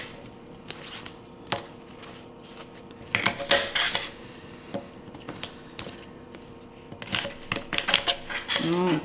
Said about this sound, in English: The first thing I'm going to do is just cut off the ends of my asparagus.